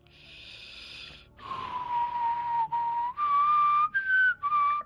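A person whistles a short tune up close, a string of clear sustained notes broken by breaths, loud and alone.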